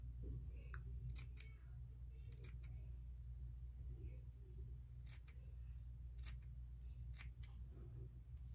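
Small scissors trimming down thick eyebrow hair, a series of crisp close snips in quick pairs spaced across the clip over a low steady rumble.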